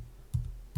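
Two soft, close keystrokes clack on a computer keyboard about half a second apart against a quiet background.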